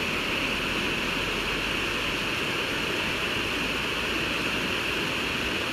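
The Aratsani river rushes along in a continuous, even roar of flowing water, steady and loud with no voices over it.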